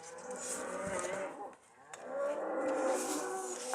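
Cows moo in a series of long, drawn-out lowing calls, fairly close and moderately loud, with a short pause midway before the mooing resumes.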